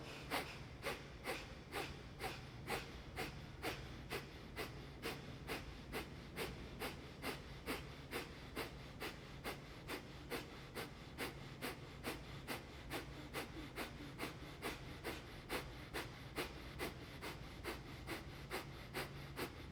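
Rapid pulsed breathing during a morning yoga session, sharp forceful exhales through the nose repeated in an even fast rhythm, about two per second, close and clear with no talking.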